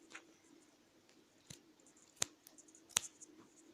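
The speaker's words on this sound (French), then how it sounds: "Donc on va prendre le ciseau et voilà." Scissors snipping through cord while making a mop: a few faint, sharp clicks spaced out over a quiet background with a low steady hum.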